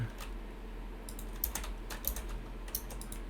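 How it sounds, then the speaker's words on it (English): Computer keyboard keys are pressed in an irregular run of crisp, close clicks, some quick and clustered, others spaced apart, over quiet background hum. "What I'm doing is clicking G, Y, and then 1 to separate."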